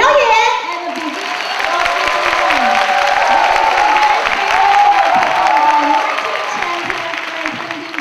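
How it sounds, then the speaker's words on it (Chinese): A theatre audience at a bartending competition opening ceremony breaks into sustained applause with some cheering, a loud continuous wash of clapping that swells and holds for several seconds, with a faint voice briefly audible underneath. "现在就让我们以最热情的掌声，欢迎这些调酒好手们精彩的表演"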